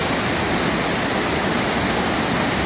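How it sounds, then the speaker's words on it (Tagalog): Lambuyugan Waterfalls in Mindanao, a steady loud roar of rushing, falling water filling the scene, close and unbroken with no voices. "Tara dito sa Lambuyugan Waterfalls."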